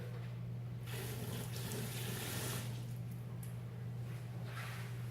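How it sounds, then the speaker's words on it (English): Water runs steadily from a tap, with splashing shifts as hands move under the stream, over a low constant hum. "gonna wash my hands real quick."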